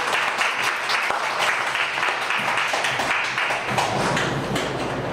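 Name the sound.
audience applause at a cocktail event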